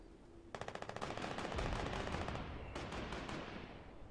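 Video game gunfire crackles in rapid automatic bursts, a quick rattling volley followed by a denser, sustained stretch of shots, moderately loud and without talk.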